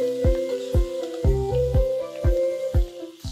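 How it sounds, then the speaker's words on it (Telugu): Capsicum and green chilli pieces fry in hot oil in a pan. A steady sizzle is broken by a regular series of sharp crackling pops, about one every half second. "ఈ ముక్కలు వేగాలి మనకి."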